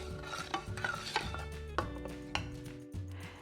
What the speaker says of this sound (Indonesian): Sekarang kita aduk sampai rata.